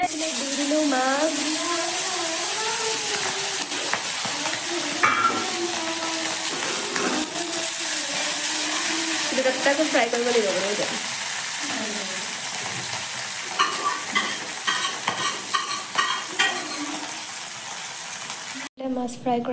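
Fish frying in hot oil in a home kitchen, a steady loud sizzle running throughout with a voice talking over it and some clinks toward the end.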